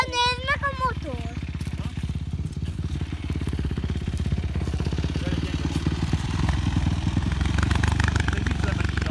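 A motorcycle engine runs nearby outdoors, a steady mid-pitched rumbling idle with clattering texture that grows slightly louder toward the end, while a voice and an adult talk over it at the start.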